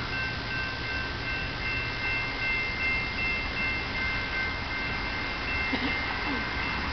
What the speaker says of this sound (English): This looks like a freight train.